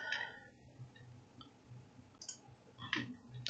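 A computer mouse clicks several times at a desk while building an automated flow in CRM software, short sharp taps spaced irregularly, fairly close and quiet against a low room hum.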